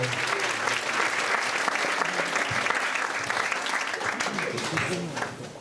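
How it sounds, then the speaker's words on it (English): Dense, full applause from an audience after a performance at an event, sustained clapping and crowd noise throughout, fading slightly at the very end. "give another round of applause to our performance"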